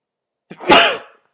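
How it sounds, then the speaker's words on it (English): A single human sneeze, close and fairly loud, with a short sharp intake followed by a bursting exhale that tails off, heard alone in a quiet room during a Dawn of Titans mobile game session. "Oh, and it figures I would have to sneeze right in the middle of a video."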